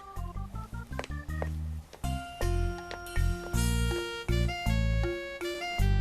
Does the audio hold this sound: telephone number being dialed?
yes